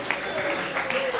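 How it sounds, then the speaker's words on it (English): Brief audience applause at a rocket science conference, a steady wash of clapping with a faint voice over it. "please give another warm round of applause for Hans Kim"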